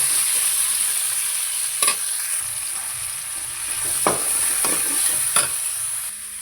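Tomatoes frying with softened onions in a pan for a South Indian dish, a steady close sizzle broken by several scraping stirs of a utensil, with no talk.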